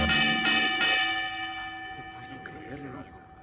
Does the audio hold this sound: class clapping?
no